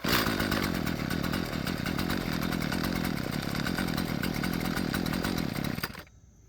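A Husqvarna 128LD string trimmer with a replacement carburetor runs steadily near the microphone, a loud buzzing two-stroke drone that holds for about six seconds, then cuts off abruptly into silence.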